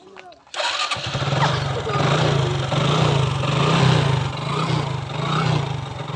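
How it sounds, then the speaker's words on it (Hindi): Hero Super Splendor motorcycle with a smoking half-fitted engine, started up about a second in and then idling close by with a steady, uneven putter and slight swells as the throttle is blipped. "तो सबसे पहले हम आपको स्टार्ट भी करके दिखा देते हैं किस तरीके से ये बाइक धुआं दे रही है"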